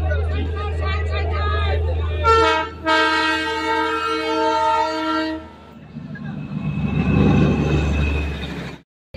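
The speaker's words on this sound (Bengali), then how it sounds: "এই দেখো টয় ট্রেন।" The Darjeeling toy train sounds its horn in long, loud, sustained tones, near and prominent, with a low rumble under it and voices in the background.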